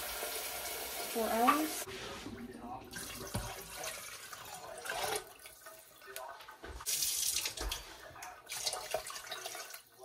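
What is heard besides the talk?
water running from a tap into a slow cooker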